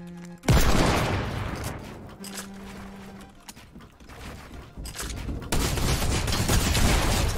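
Drum shotgun firing in the Fortnite video game, a loud burst of rapid blasts that runs on for several seconds and later starts again as another sustained barrage, with game effects in between.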